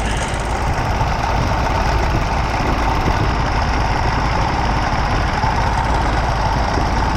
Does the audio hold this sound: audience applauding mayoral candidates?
no